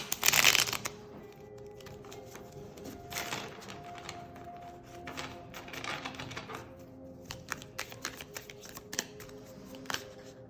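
Tarot cards shuffled and drawn with a brisk burst of riffling at the start, then scattered soft snaps and slides of cards being laid out, close and fairly quiet.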